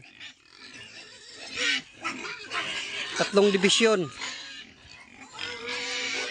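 Pigs grunting and oinking at a rural Filipino home, several short snorts and squeals close by, mixed with someone talking over them throughout.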